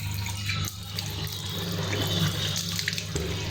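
A household tap runs steadily into a sink while someone washes their face and brushes their teeth, giving a continuous close splashing rush with slight shifts as hands move through the stream and no talking.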